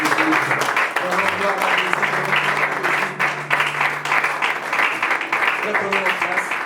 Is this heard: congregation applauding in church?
yes